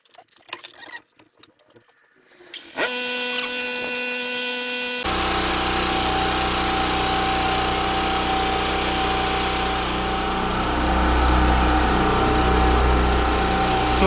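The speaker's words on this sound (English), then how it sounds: "The bench grinder is going." A bench grinder powered by a Champion generator, model 46539, switches on after a quiet start and spins up to a steady, loud, high-pitched whine over the generator's constant engine drone, with the load rising slightly near the end.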